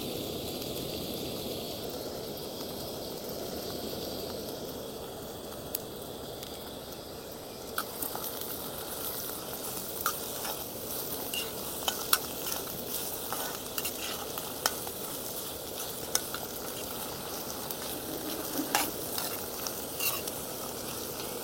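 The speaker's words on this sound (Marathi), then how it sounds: "कांदा छान परतून घ्यायचा आहे गुलाबी रंगावर" Onion and green chili sautéing in a pan, a soft continuous sizzle with occasional scraping clicks from stirring, fairly quiet and without talk.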